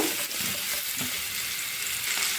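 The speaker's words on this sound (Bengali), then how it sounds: "এখন আমি কেটে রাখা ঝিঙেগুলো দেব" Chopped ridge gourd sizzling as it hits hot oil seasoned with a little turmeric, a steady close frying hiss with light stirring scrapes and no voices.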